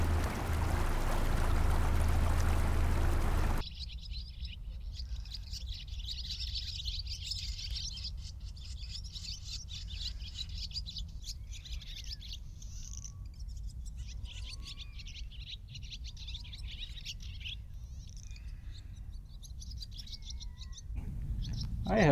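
Near an island anchorage, a flock of birds keeps up a steady chatter of high chirps and calls, with several clearer whistled notes rising above a constant wash of water and wind, after a loud rumbling start.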